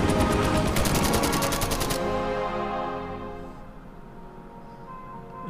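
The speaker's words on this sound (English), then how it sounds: "the fighter comes down here to shoot at my bomber" Machine gun fire from a fighter plane strafing a bomber in a Soviet air-combat video game, a dense loud rattle of rapid shots for about two seconds, then fading into a lingering rumble and background game sound.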